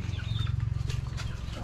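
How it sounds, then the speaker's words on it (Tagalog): A chicken clucks softly in a rural island setting, a faint, repeated low clucking held under a steady background hum with no talking. "Inaalat na naman ng manok."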